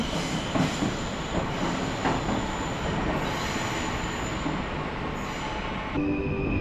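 Train at Kraków Główny station, a steady rumble of rolling wagons with high wheel squeals and a faint clatter, continuous and fairly close throughout.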